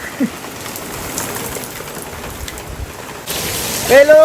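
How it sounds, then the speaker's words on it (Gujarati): Early-season rain falls in Junagadh as a steady soft patter, growing louder near the end, where a brief tonal whistle or voice-like sound rises over it. "જુનાગઢમાં પહેલો વરસાદ આવી રહ્યો છે"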